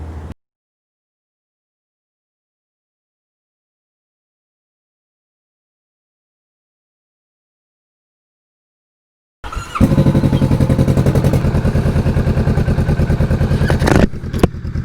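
A Kawasaki Vulcan S motorcycle with a Musarri aftermarket exhaust idles, coming in after a long silence as a loud, close, steady low throb with rapid even pulses and a slight rise near the end.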